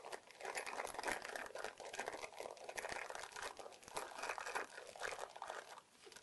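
A plastic bag crinkles and rustles continuously up close as a hand rummages inside it to pull out a key, the dense crackling coming in uneven bursts with no talk.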